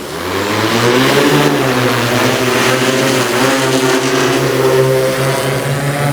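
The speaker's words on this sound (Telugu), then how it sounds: "ఇది చిన్న మోటార్లతో ఉన్నటువంటి డ్రోను." Agricultural spraying drone with small electric motors flying over a farm field, one of three drones spraying crops; a steady, loud, continuous motor hum with a constant tonal whine holds throughout, alone without talk.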